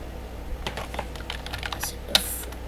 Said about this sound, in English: I know how to type fast without looking at the keyboard.